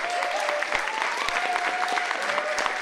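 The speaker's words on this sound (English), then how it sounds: "give me a round of applause for the work that they've done on the inside." Applause from an audience at a community solidarity event, steady clapping filling the room with a faint whistle or cheer tone running through it and a few sharper claps standing out.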